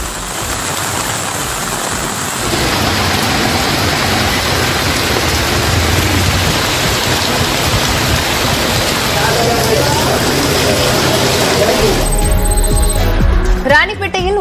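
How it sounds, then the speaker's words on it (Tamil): Heavy rain pours steadily onto a waterlogged road near a flyover, a loud, dense, continuous hiss that swells slightly partway through and shifts near the end. "கனமழையின் காரணமாக போரூர் மேம்பாலம் பகுதியில் மழைநீர் தேங்கியதால் வாகன ஓட்டிகள் அவதியடைந்தனர்."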